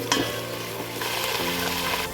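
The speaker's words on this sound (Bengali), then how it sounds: "প্রথম আমি এই সবুজ ফুলকপিটা আগে ভালো করে ভেজে নিচ্ছি।" Green cauliflower florets fry in a hot pan with oil, giving a loud, continuous sizzle close by, with brief scrapes and rattles as the pieces are stirred.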